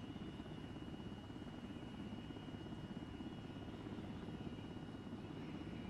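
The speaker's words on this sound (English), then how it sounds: "your in-flight elevator music will be the gentle sounds of the rotor blades" Helicopter rotor blades in flight in the video game Arma 3, a steady low chopping drone heard from inside the cabin, heavy and continuous throughout with no voices.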